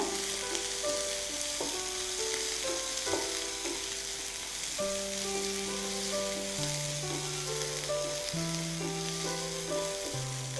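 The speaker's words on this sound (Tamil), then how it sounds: "உப்பு போட்டு நல்லா வதக்குங்க." Chopped onions with salt sauté in a pan, giving a constant sizzling hiss with stirring under steady background music.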